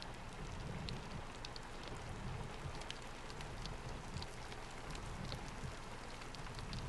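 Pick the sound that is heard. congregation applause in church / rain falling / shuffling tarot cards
rain falling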